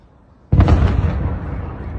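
A single sudden, loud blast from a drone-attack explosion in the Russian city of Belgorod, followed by a long rumbling roar that slowly dies away, with no voices.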